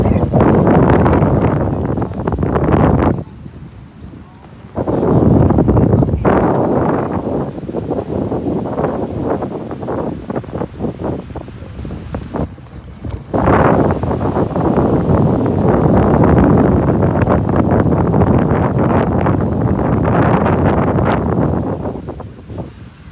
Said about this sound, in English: Today's a pretty windy day.